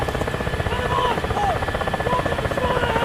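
A repeating WAV file plays over the radio in the Ka-50 Black Shark helicopter in DCS World, faint warbling tones drifting above the loud, pulsing thump of the rotor and turbine drone.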